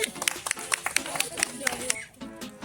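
A small group claps for a prize winner at a village game show, a quick burst of scattered, uneven hand claps close by that fades out after about two seconds, with talk around it.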